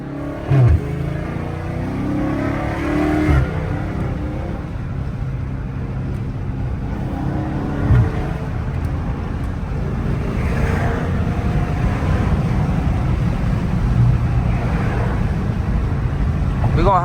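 A Dodge Scat Pack weaves through traffic with its engine revving, rising and falling through several sharp downshifts and throttle blips over a steady road and wind roar, with someone talking intermittently.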